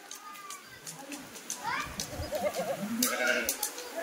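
Kathiawadi goats and sheep bleat in repeated wavering calls at a livestock sale, close and moderately loud, mixed with people talking and children's voices nearby.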